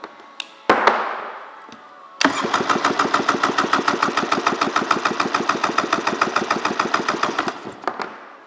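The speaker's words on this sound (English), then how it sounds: "1996 Polaris SLX 780. Freshwater engine, compression test." A 1996 Polaris SLX 780 freshwater engine cranks over during a compression test, a fast steady chug of rhythmic pulses lasting several seconds after a few clicks, loud and close.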